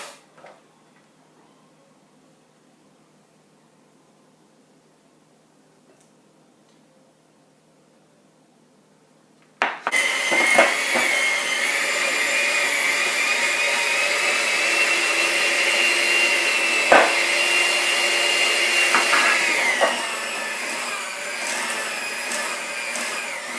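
An electric mixer beats cake batter as sugar is added, a steady loud whir starting abruptly after about ten seconds of near silence and running to the end with slight shifts in pitch.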